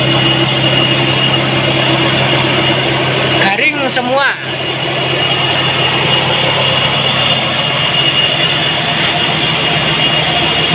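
Old car engine idling at a steady low hum, constant and fairly loud, with someone speaking briefly over it partway through.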